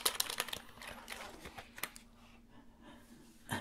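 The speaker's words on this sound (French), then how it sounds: "Un mini clavier." Small keys on a mini keyboard tapped in quick, close clicking bursts, brisk at first and then thinning out, with one last sharp tap at the end.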